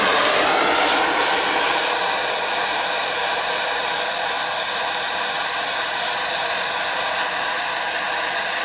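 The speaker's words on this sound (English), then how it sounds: "then hit them with a torch, let them cool off" A handheld torch heats copper valve bridge parts from a Dodge Ram Cummins 5.9 24v engine, giving a steady, loud, close roaring hiss that runs unbroken with no speech.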